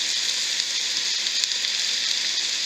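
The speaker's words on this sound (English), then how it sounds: "I'm going to let that saute a little bit." Carrots and potatoes sautéing in a pot for potato soup: a steady, close sizzle and hiss that holds even throughout, with no talk.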